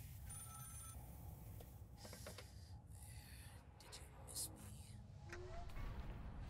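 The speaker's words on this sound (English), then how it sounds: "A phone is ringing." A telephone rings inside the Scream Ghostface horror video game, its bell-like trills recurring faintly in the background beneath a steady low hum and brief bursts of talk.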